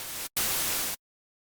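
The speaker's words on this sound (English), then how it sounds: "I have some white noise that I created in the analog synth, and I've loaded the white noise into Simpler." White noise generated on an analog synth, played as two steady full-band hiss bursts, one short, then a brief gap and a longer one, before cutting to silence.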